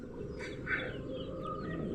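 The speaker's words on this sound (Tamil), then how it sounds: "பார்த்தீங்களா நம்ம கோழி வானரங்கள்லாம் எப்படி ஓடிட்டுருக்குதுன்ட்டு" Chickens on a plantation cluck in a few short calls over a steady outdoor background hiss, moderately close, with no talking.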